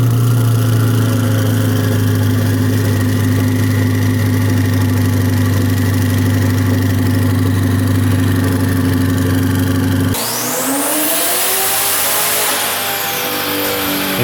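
A supercharged C8 Corvette with a ProCharger runs hard on a dyno, its loud engine drone and whine holding steady before the pitch shifts suddenly near the end.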